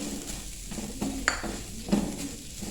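A spoon stirs crushed chilli, chili flakes and black pepper together in a bowl, giving a few faint, sparse clinks against the side over a quiet kitchen background.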